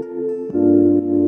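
Dry electric guitar part played without the Corey Wong Archetype amp plugin or reverb, a couple of plain sustained chords, close and unprocessed with no voice over them.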